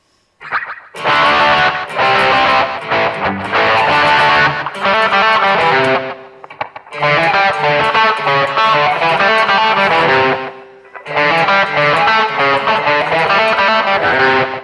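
Electric guitar played through a BOSS eBand amp with reverb set at 50, loud distorted chords and riffs in bursts with short pauses between phrases.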